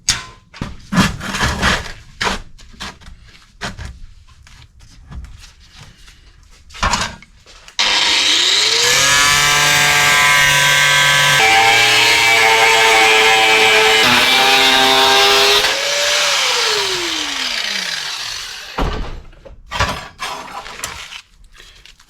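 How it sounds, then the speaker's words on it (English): An angle grinder cuts a long, loud, steady pass through metal along a marked line, its pitch dipping under load and rising as it spins down, with scattered workshop knocks and clatter before and after. "I'll just run down that with a grinder"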